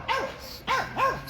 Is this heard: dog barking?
yes